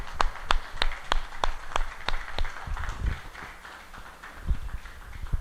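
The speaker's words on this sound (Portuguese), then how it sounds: "Vamos aplaudir o Senhor" A church congregation claps together in a quick, steady rhythm, sharp claps repeating evenly over a low murmur of the crowd.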